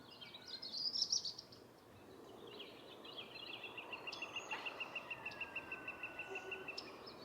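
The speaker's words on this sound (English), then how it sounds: "you hear the birds singing." Birds call and sing faintly in a peaceful wooded setting, a brief chirping burst followed by a long run of evenly repeated notes over quiet background hiss.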